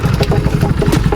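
A single motorcycle loaded with a whole group of riders idles and putters nearby, its steady mid-pitched engine beat pulsing continuously through the short moment.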